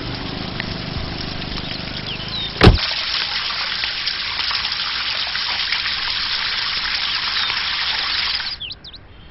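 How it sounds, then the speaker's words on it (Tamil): Water gushing steadily from a tap left open, a constant broadband rush lasting about eight seconds with a sharp knock near the start and a few faint bird calls, then cutting off as the flow stops. "பொறுப்பே இல்லாம தண்ணியை திறந்து விட்டு போயிருக்காங்க."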